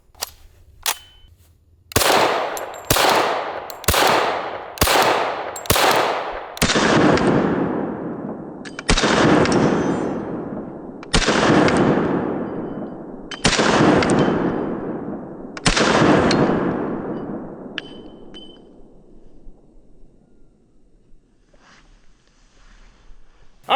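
Kriss Vector .45 ACP carbine firing outdoors: a quick string of five sharp shots, then five slower spaced shots, each loud report trailing into a long echoing decay, no talking.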